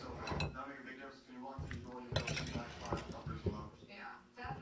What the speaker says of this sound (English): Stirring from the bottom because you remember we poured that olive oil down in there